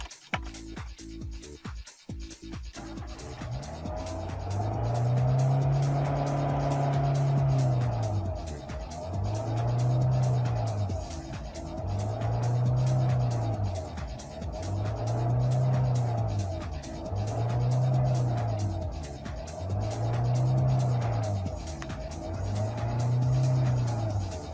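A Renault Megane I 1.4 16v engine runs after its idle stepper motor was cleaned. It idles close by and surges up and down in a slow, regular rhythm, rising and falling about every three seconds.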